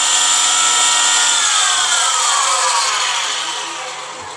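A Shijing 9201C-1200 electric tile cutter runs with a loud, continuous motor whine whose pitch climbs as the speed is raised, then eases off slightly at the end.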